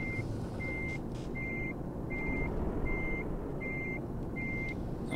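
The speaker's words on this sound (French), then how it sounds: "Petite marche arrière qui fait bien du bruit." A truck in the Euro Truck Simulator 2 video game backs up, its steady engine rumble overlaid by a regular series of about seven evenly spaced reversing beeps, clear and continuous without talk.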